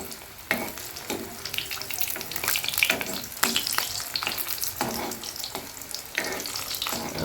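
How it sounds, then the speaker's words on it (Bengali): Veg patties are dropped into hot oil in a home village kitchen and fry with a loud, steady crackling sizzle. Clattering and stirring break in now and then, and no one speaks. "আমার তেল গরম হয়ে গেছে এবার আমি একটা একটা করে এর মধ্যে ছেড়ে দেবো"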